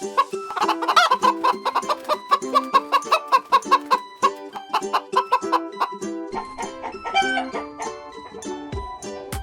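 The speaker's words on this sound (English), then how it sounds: "Cock." A farm rooster clucks in a rapid, busy series of loud, close calls, with a brief crow-like stretch near the start, the sound carrying on without any talk.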